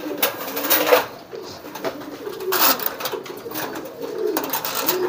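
Domestic pigeons coo in a coop, with soft repeated coos rising and falling close by and faint rustling between them.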